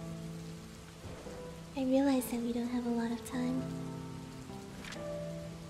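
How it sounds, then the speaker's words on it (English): Steady rain patters in the background while someone speaks softly over it, the wash of drops continuing throughout. "It's raining now"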